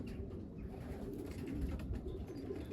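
Young racing pigeons at their loft, cooing softly and steadily under a low, continuous background rumble, with no clear individual calls standing out.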